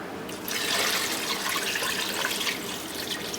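Water pours steadily into a cooking pot for oxtails with Israeli couscous, a continuous close splashing rush that swells slightly after the start and holds on its own.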